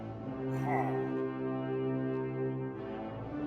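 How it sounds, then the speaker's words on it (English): In Minecraft, a custom raid horn styled after Lord of the Rings sounds as one long, deep, sustained blast with rich harmonics, swelling slightly and then fading, fairly quiet and heard alone. "I changed the raid horn sounds when a village gets attacked by raiders or you trigger a raid in your raid farm."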